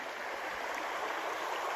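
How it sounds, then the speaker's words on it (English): Steady broadband rush of a river flowing through a pretty section along a trail, continuous and fairly close with no voices. "Pretty section of the river."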